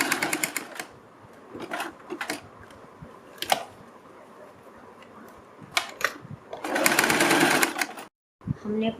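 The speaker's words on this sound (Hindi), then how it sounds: "गले को पलटने के बाद पहले हम गले के किनारे पर एक सिलाई लगाएंगे।" Sewing machine stitching along the edge of a turned blouse neckline, heard in short bursts of rapid mechanical whirring, the longest near the end, with a person talking between the runs.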